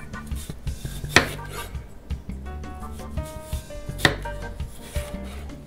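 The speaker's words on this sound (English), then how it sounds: "we're just going to make little fries out of these by cutting them twice that way" A knife cuts raw vegetables into thin fries on a board, producing irregular close taps and knocks with a couple of sharper clunks and light scraping, and no talking.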